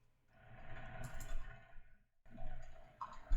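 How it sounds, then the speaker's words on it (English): Tarot cards being shuffled by hand, two short bursts of soft riffling and clicking separated by a brief pause, faint and close with no talk. "Just getting ready to shuffle these cards a little bit more"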